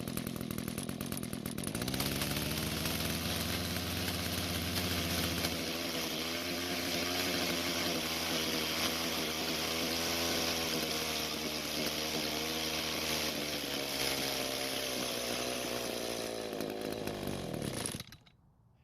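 An Echo string trimmer's small two-stroke engine, idle speed raised, runs loud and close for most of the clip, its pitch surging and dipping unevenly before it cuts out abruptly near the end.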